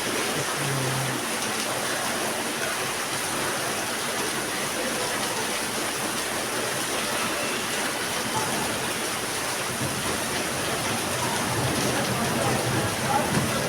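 Heavy rain pours steadily in the Mehterçeşme neighbourhood of Esenyurt, Istanbul, a dense, unbroken hiss that stays loud and even throughout with no voices over it.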